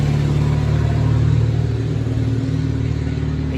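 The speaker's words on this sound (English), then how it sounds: "I do have an extremely loud truck in my neighborhood." A loud truck engine rumbles steadily through a residential neighborhood, a continuous low droning roar that stays close and even for the whole stretch with no voices.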